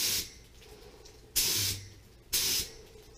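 Aerosol spray paint going onto a trike gas tank in light coats: three short bright hissing bursts spaced about a second apart, each lasting roughly a quarter to half second, with quiet pauses between.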